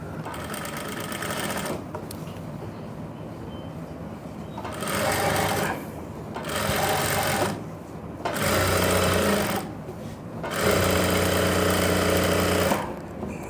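An electric sewing machine stitches pants with a front belt and a back elastic, running in several bursts of rapid mechanical chatter separated by short pauses, close and loud.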